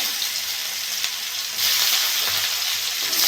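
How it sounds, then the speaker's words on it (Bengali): Onions fry in oil with a steady, moderate sizzle that grows a little louder halfway through, with no one talking. "পেঁয়াজটা একটু ভেজে নেব।"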